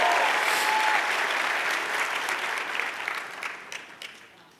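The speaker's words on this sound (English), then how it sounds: "Come on, guys, give it a round of applause." Audience applause at a training event, dense clapping filling the room from the start and slowly thinning and fading toward the end, with no talk over it.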